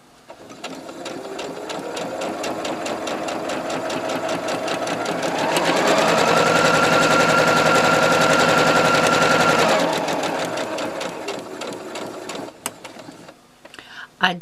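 A sewing machine starts up and stitches at a fast, steady clip, growing louder and holding a whirring hum for several seconds before slowing and stopping, close up, with light handling noises around it.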